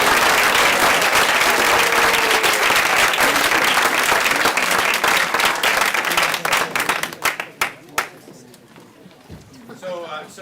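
Audience applause at a school spring term awards ceremony, a loud dense wash of clapping from many hands that thins out into scattered individual claps and fades near the end.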